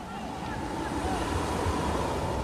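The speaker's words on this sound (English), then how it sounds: "Dozens of meters of sand are carried away, and waves flood the streets of Kivalina." Ocean waves surging onto a sand strip at Kivalina, a steady wash of surf with wind noise across the microphone, even and unbroken throughout.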